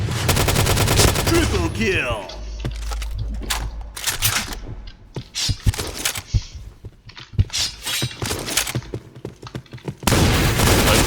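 Close-range Scar L rifle gunfire in the Point Blank 2025 shooter game, a dense burst of rapid automatic shots at first, then scattered single cracks and clattering casings, ending in another loud sustained burst.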